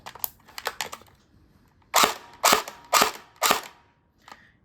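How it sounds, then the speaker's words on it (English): An ARP9 gel blaster rifle fires four sharp, loud shots with its small blowback action, evenly spaced about half a second apart, after some lighter mechanical clicks, with no voices. "This is having a small blowback action."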